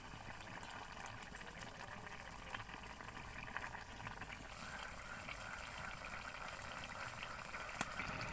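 Fish curry with tomato pieces simmering in a pot, a faint continuous bubbling and hiss, steady and fairly close with no talk.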